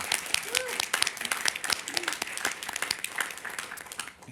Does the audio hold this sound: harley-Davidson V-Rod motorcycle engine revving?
no